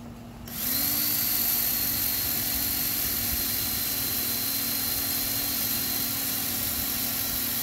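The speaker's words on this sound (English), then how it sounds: "So I got my wire wheel on the drill." An electric drill spinning a wire wheel against metal starts up after a brief quiet moment, then holds a loud, steady, close whine with a constant motor hum for the rest of the clip. No one speaks.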